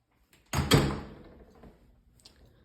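A door fitted with a door closer, which shuts fairly fast, swings shut with one firm thump that rings out and fades, then a faint click follows a moment later.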